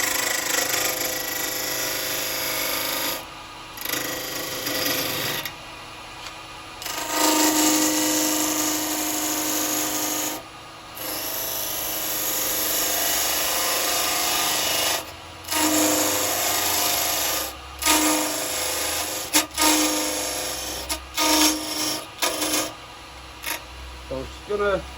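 Carbide chisels cutting a small wooden hobbit-house piece spinning on a lathe, a steady close scraping and rubbing hiss with brief pauses as the tool lifts away, under a low motor hum.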